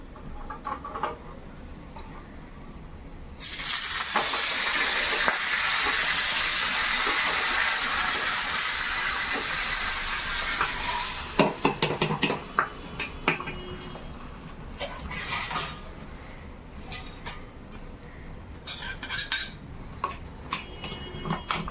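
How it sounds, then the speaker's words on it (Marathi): Cumin tempering sizzles in a pan for chutney, a loud close hiss that starts suddenly and holds for several seconds, then fades into scattered clinks and scraping of utensils against the pan. "तर या आपल्याला चटणीला तडका द्यायचा आहे."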